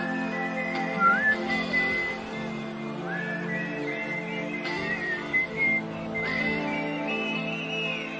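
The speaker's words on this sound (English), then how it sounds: "Ooh, I like the whistle." Melodic whistling from a song, a steady tune of sliding, sustained notes over the band's soft backing music for about eight seconds.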